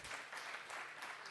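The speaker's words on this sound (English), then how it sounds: "Once again, an applause for David" A conference audience at a summit applauds a speaker and panel, a brief dense wash of clapping heard faintly from a distance.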